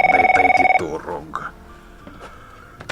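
A telephone rings loudly in a residence, sounding in a rapid pulsing burst that cuts off abruptly, then gives way to voices and indoor movement.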